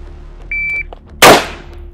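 A single electronic shot timer beep, a short steady high tone, sounds at an outdoor military firing drill, followed moments later by one loud sharp gunshot that rings out and decays.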